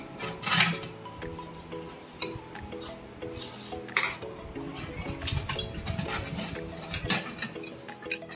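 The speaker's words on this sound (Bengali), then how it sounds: "মা এখন চকাচক করে ধুয়ে নিচ্ছে" Brass lamp stand being scrubbed clean with lemon and tamarind, metallic clinks and scraping rubs recurring in an uneven rhythm, close and moderately loud, with a sharp clank partway through and background music underneath.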